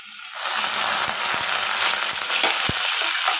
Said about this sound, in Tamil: இது எண்ணெயில் நல்லா வதக்கலாம்.